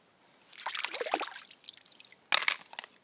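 Dishes being rinsed in a tub of water at a campsite, with close splashing and sloshing in two bursts, the second sharper and louder, no one talking.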